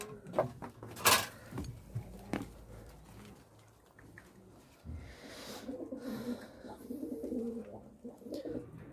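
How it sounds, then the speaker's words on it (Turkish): Pet pigeons cooing in a loft with a soft, low, intermittent murmur, mixed with a few scattered knocks and clatters and rustling nearby. "Şuradaki güvercinlerimizi de ayırmıştım."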